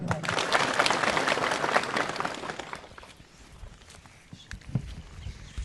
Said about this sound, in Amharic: እባካችሁ በክብር ሸኙልን። ጭብጨባ።